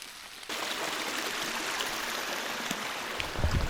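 A rain-swollen mountain stream in the Adirondacks during spring showers rushes steadily after a brief quieter moment, a loud continuous wash of flowing water close by.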